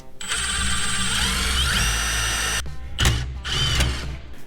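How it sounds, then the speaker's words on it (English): A power drill whines steadily at high speed for a few seconds driving a self-tapping screw on a turbo Datsun 510's intercooler piping, then stops and restarts in two short bursts. "I'm gonna grab the drill and do that real quick"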